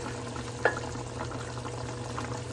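Beef stock simmering in a pot, a soft steady bubbling and sizzle heard close up, with one small clink near the start and no voices.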